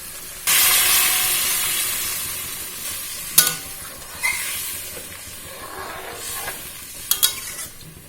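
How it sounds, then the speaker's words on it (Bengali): Hot water poured into frying masala and potatoes for a paneer aloo curry bursts into a loud, sustained hiss, then settles into bubbling sizzle with a few sharp clanks of a spoon against the pot. "গরম জল দিয়ে দেওয়া হচ্ছে।"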